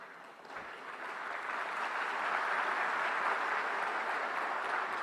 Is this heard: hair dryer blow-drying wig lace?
no